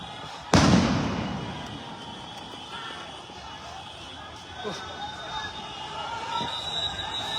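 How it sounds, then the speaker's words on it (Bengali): A police sound grenade goes off with one sharp, loud blast at a street protest, its echo and rumble fading slowly beneath crowd noise and a voice talking over the scene. "একেবারে বিকট শব্দে এখানে সাউন্ড গ্রেনেড ছড়েছেন পুলিশ"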